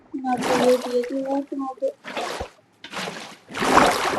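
Water splashes and sloshes in several short bursts separated by brief pauses as it is poured in Minecraft, with a voice talking over the first part.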